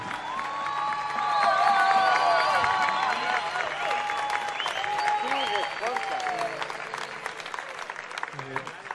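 Audience applause and cheering at a chamamé festival concert, the Fiesta Nacional del Chamamé, loud and sustained for several seconds with whistles and shouts, under a voice talking and fading toward the end.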